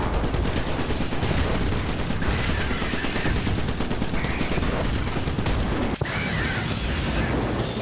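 Gunfire in the Iron Brigade game, a dense nonstop barrage of machine gun and explosive fire, loud and unbroken, with a single sharp crack near the end.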